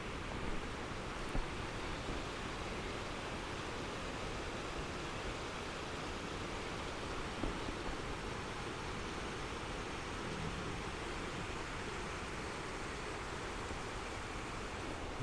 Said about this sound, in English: Just gonna take a quick look at the creek here.